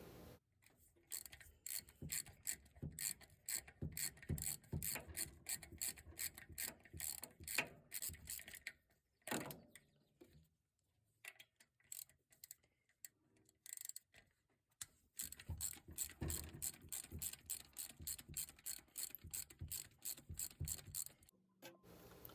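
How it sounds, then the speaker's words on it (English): Ratchet wrench loosening the bolts that hold a fuel pump to a small-block Chevy engine block, with bursts of rapid clicking ratchet strokes separated by short pauses, close and moderately loud. "Next I remove the bolts holding the fuel pump to the block."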